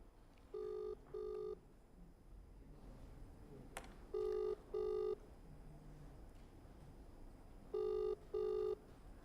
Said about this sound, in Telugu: అఘోరి ఫోన్ రింగ్ అవుతోంది, కానీ ఆమె ఆన్సర్ చేయడం లేదు